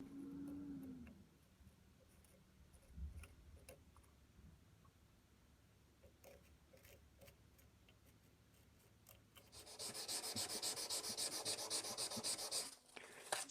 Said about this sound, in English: So I'm just sanding where I put the epoxy here.